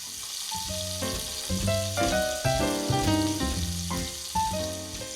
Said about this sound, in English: the pancetta right now, as it's reducing, as it's frying into the olive oil